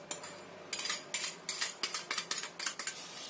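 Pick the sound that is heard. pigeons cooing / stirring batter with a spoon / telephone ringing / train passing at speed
stirring batter with a spoon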